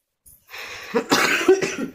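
A single person coughs a few times in quick bursts, close and fairly loud, with a throaty rasp.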